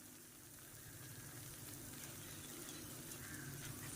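Hot oil sizzles faintly in a pan while rava kesari is cooked, a soft, steady frying hiss lasting a few seconds with no voices.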